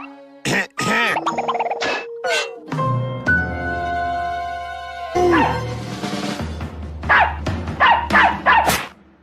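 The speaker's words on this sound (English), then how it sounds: "Dogs." Several cartoon dogs in a Tom and Jerry episode bark, yip and growl in quick bursts, with a sustained musical tone in the middle.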